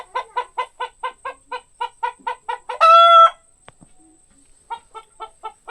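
Chickens in a remote forest village cluck in a steady rhythmic run of close, loud bursts. A rooster lets out one brief crow midway, then the clucking resumes, with no voices.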